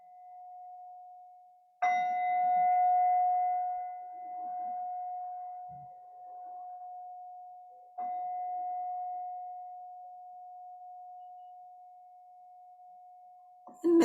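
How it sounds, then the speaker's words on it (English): A meditation bell rings with a long, steady sustained tone lasting the whole stretch, struck again partway through, fading gently between strikes; no voices. "give our full attention to the sound of the bell"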